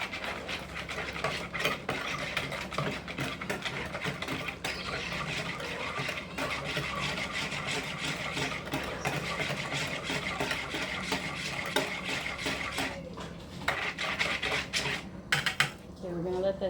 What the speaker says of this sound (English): One teaspoon sugar. Just gonna mix that.